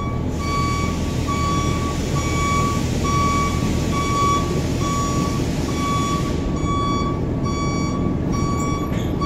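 A truck being loaded at a cement factory sounds a steady, repeating reversing beep over loud, constant engine and site rumble throughout.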